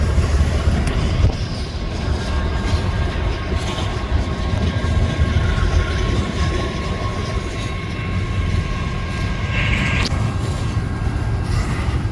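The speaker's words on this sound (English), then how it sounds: "The more interesting train cars on this consist had to be these few Cascade Green BN hoppers" A freight train with a few Cascade Green BN hopper cars rolls past close by, a loud continuous rumble with rail clatter and a brief higher squeal near the end.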